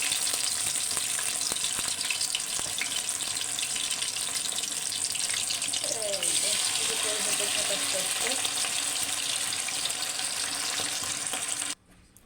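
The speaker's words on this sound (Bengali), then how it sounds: "কড়াইতে আমি মাংসটা দিয়ে দিলাম" Chicken meat frying in a wok for tandoori chicken sizzles loudly and steadily at close range, a continuous hiss that stops abruptly at the end.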